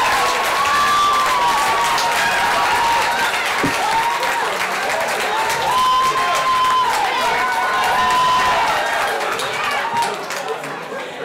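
Sustained audience applause mixed with cheering and a few whistles fills a live digital awards showcase event after a conference talk, dense and steady for about ten seconds before thinning slightly at the end.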